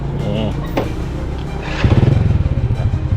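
A motorcycle rides along a concrete road by the Mekong near Vientiane, Laos, its engine thrumming close with a pulsing, rising rhythm that swells partway through, while someone talks over it.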